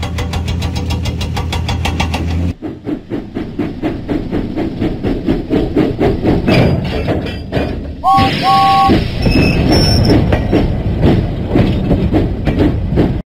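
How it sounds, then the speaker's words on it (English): The steam engine James chugging along the rails in a Thomas & Friends video game, with steady rhythmic puffing and clattering wheels, a brief two-note whistle partway through, and loud, continuous movement. "Huffing and puffing, James set out for Knapford Station."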